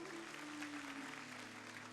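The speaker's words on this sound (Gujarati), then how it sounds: "વધાવો, તાળીઓના ગડગડાટથી વધાવો." Faint applause from a crowd gathered at a religious katha discourse in Vadnagar, a soft continuous patter of clapping with a steady tonal hum running underneath.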